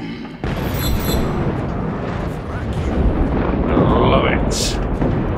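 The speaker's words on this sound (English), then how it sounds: "It's all still blowing up as well." Rumbling explosions and debris blasts from the video game Just Cause 3, loud and sustained with a dense low roar and crackling bursts, continuing without letup.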